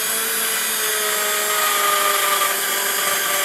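A power drill bores through plastic into a scrap of wood on a Tamiya 1/14 Grand Hauler headlight mod, giving a loud, steady high whine with tonal hum, alone with no talking.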